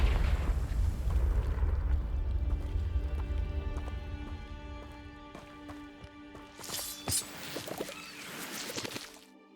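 Confringo blasting spell from Hogwarts Legacy on PS5 detonates in a heavy, rumbling explosion that fades into lingering debris, with sharper crackling bursts toward the end.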